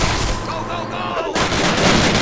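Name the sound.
gunfire in Call of Duty video game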